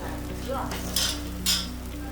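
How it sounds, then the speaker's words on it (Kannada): Hot oil tempering crackles and sizzles steadily in a pan for okra sambar, with two louder hissing bursts as the seasoning hits, close and continuous. "ಸಮ ಇವಾಗ ಒಗ್ಗರಣೆ"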